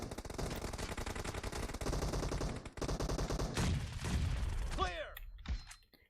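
Rapid bursts of gunfire from a shooter video game rattle almost continuously, with a short gap midway and fading near the end.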